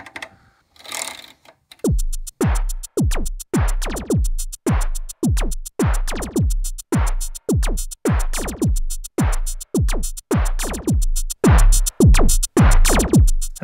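Erica Synths Perkons drum machine beat run through its compressor, punchy thumping kicks and ticking hits in a fast, steady repeating pattern, loud and close after a brief noisy start.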